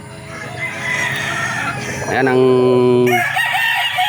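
A broodcock rooster crows loudly and close, one long drawn-out cock-a-doodle-doo near the middle, with clucking fowl around it and a voice speaking briefly over the yard.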